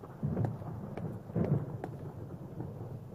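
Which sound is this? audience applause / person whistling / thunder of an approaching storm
thunder of an approaching storm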